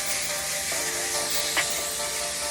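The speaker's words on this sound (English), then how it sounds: "I'm just gonna spray my pan" A can of cooking spray hisses steadily onto a baking pan for baked chicken and potatoes, a continuous close spray with faint background hum and no talking.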